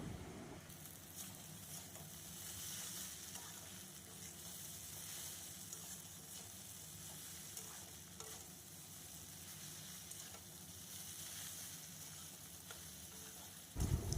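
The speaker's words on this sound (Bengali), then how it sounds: "মিশিয়ে নেওয়ার পর এবার আমি কিছুক্ষণের জন্য চাউমিনটা ভালোভাবে ভেজে নেব" Chow mein noodles frying with vinegar in a pan, a steady broadband sizzle and crackle that holds at an even level throughout, close and unbroken, with a brief louder clatter at the very end.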